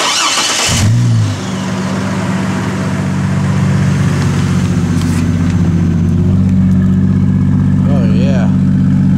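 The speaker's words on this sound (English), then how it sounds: "Alright, let's crank her up." A Chevrolet Trailblazer on a rainy day: the starter cranks briefly, the engine catches and settles into a steady close-up idle with a rev rising partway through, while people talk over it.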